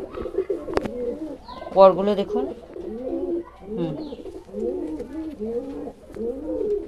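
Pigeons coo in repeated throaty, rolling phrases close at hand, while someone talks over them, with one sharp click near the start.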